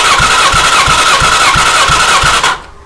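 A BMW S1000RR motorcycle engine cranks on the starter during a compression test, a loud, even rhythm of about seven chugging compression strokes over a whining starter motor before cutting off abruptly.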